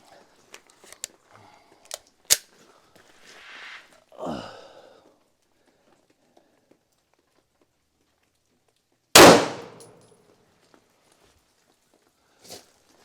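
Two sharp 9mm pistol reports from HST rounds fired into stacked drywall sheets, loud and close, the second especially strong with a short decaying tail, separated by quiet handling noises and small clicks.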